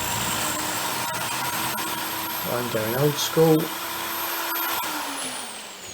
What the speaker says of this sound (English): I'm basically drilling up to where I've put that marker on the drill bit